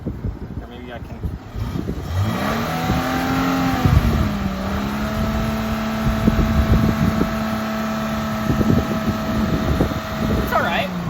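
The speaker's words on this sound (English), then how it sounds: "if I redline the engine" A Subaru Forester engine revs hard with rising and falling tones, climbing toward redline, loud and close, with wind buffeting and a voice speaking briefly over it.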